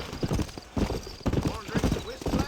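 Steady clip-clop of horse hooves at a walking pace on a trail in the video game Red Dead Redemption, close and moderately loud.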